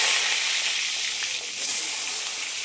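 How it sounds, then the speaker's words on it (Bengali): Eggplant and pointed gourd pieces frying in a pan of hot oil give a continuous bright sizzle and hiss, close and steady, dipping briefly midway before surging again. "কড়াইতে তেল গরম হয়ে গেছে, আমি বেগুন আর পটলটাকে আগে ভেজে নেবো"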